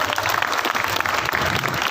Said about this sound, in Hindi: जोरदार तालियों में